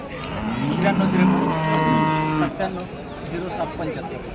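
A Holstein Friesian cow moos loudly in a long, drawn-out low call, followed by shorter lowing sounds amid faint background chatter at the Kashti livestock market in Maharashtra.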